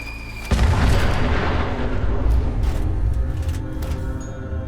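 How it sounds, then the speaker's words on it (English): A sudden loud explosion in Fallout 4 followed by a long rumbling roar and debris-like crackle, with no voices. "that was a pretty satisfying explosion"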